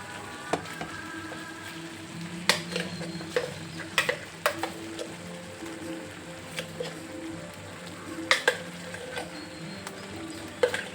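Masala being stirred into stuffed brinjal frying in a pan, with a steady soft sizzle and scattered sharp clicks and scrapes of a spoon against the pan, close and moderately loud.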